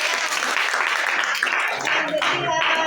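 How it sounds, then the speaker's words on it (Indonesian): A classroom claps for a student after a power supply circuit demonstration, a brief burst of applause that is close by and overlapped by voices. "Tepuk tangan buat Brata."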